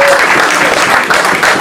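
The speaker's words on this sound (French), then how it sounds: "Applaudissez pour vous-même, s'il vous plaît." Loud, dense audience applause filling the space at a gathering in Douala, continuous close clapping with no pauses and no talk.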